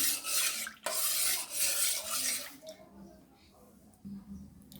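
Soaked basil seeds being mixed into watermelon sharbat, a steady scraping, swishing stir of a spoon against a vessel for about two and a half seconds, then softer, sparser clinks and rubs close by.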